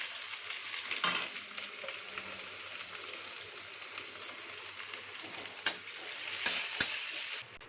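Onions sizzle and fry in a pan for an Odia fish head dish, a soft steady crackle with a few sharp clinks and stirring knocks rising above it.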